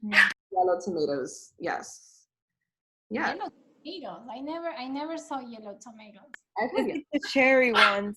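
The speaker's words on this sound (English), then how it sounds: "Sorry for my dog." A household dog barks a few times in brief, fairly close bursts, between and under a conversation among several people indoors.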